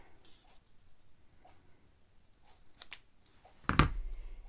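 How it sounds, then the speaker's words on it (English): Scissors trim a paper scrap for card making: a single sharp, close snip after quiet handling noises, with no talk. "Take my scissors and just trim that."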